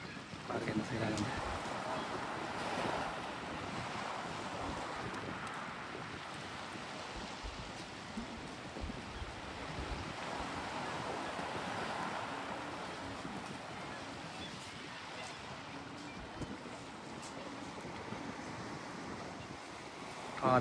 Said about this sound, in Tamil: காற்று, இந்த தண்ணியோட சத்தம் வந்து செம்மையாக இருக்குது.